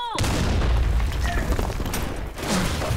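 A grenade goes off in a first-person shooter video game, a loud, close boom that swells into a dense rumbling blast filling the moment, with gunfire-like crackle and a voice briefly heard underneath.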